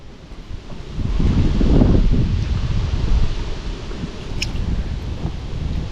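Gusty wind on a boat buffets the microphone with a loud, rumbling roar that swells after the first second and then keeps on steadily.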